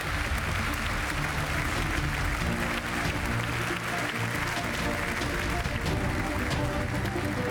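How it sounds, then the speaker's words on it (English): An audience at the European Inventor Award ceremony applauds a research category winner with continuous clapping and music playing underneath. "Big round of applause for our winner in the research category."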